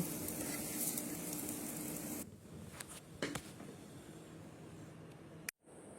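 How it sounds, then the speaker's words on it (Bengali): Jackfruit pieces frying in oil in a pan give a steady close sizzle for about two seconds, then the hiss drops to a softer crackle with a few sharp clicks and a brief cutout near the end. "কাঁঠাল ভাজা হয়ে গেছে এবার কাঁঠালগুলো তুলে নেব"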